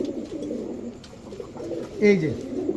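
Soft coos of Pakistani fancy pigeons murmur continuously in the background, with one louder, closer coo partway through.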